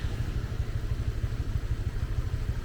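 A small scooter engine putters close by with a rapid, pulsing low rumble as it rides through a flooded street during the rainy season in Siem Reap, Cambodia.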